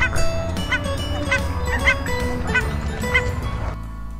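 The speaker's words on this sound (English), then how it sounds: "This is a duck." Duck quacking in a children's bird-name vocabulary lesson: a series of loud, honking quacks repeating every half second or so over a busy background bed, ending abruptly.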